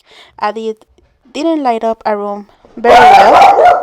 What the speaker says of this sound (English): Oh my god, I'm sorry for my dogs.